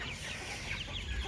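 Free-range village chickens, ayam kampung and KUB hens, cluck softly in a coop, a brief murmur of overlapping bird calls heard from close by.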